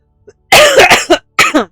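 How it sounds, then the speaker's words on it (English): A person coughs several times in quick bursts, close and loud, with a short pause before two more coughs. "I'm still dealing with a cough"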